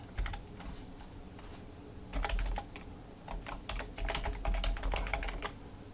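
Rapid clatter of a computer keyboard as someone types in a username and password to register a new account, bursts of keystrokes in uneven runs with short pauses, close and clear with no voices.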